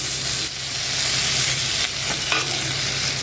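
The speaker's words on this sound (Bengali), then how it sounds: "একটু আমগুলো কষে নেব ভালো করে।" Mango pieces stirred and fried in a pan for aam shol, a Bengali snakehead fish curry with mango: a loud, steady sizzle broken by scraping stirs, with no talking.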